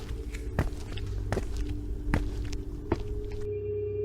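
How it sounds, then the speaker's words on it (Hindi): Slow footsteps outside a room at night in a school, four or five soft thuds spaced evenly under a low hum, faint and somewhat distant, no voices. "उसके बाहर मुझे धीरे धीरे किसी के चलने की आवाज आ रही थी"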